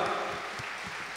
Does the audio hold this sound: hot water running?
no